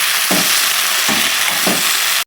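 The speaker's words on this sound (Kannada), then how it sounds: "ಸೊಪ್ಪು ಚೆನ್ನಾಗಿ ಎಣ್ಣೆ ಫ್ರೈ ಆಗಿದೆ." Leafy greens fry in oil in a pan, a steady close hiss with three short bursts of stirring scrapes along the way, then an abrupt stop.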